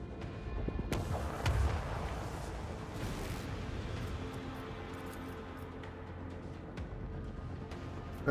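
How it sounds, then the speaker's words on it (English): Macro cannons fire in the space combat of the video game Rogue Trader, heavy booming shots with a sharp blast near the start and fainter rumbling impacts under a sustained low drone. "Macro cannons, open fire!"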